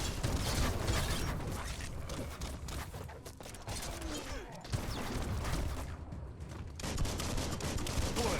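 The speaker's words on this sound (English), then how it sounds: "Bullets everywhere." Gunfire in Biomutant, bursts of rapid shots and mechanical clatter running through most of the stretch amid a busy, noisy battle mix, with a voice faintly under it.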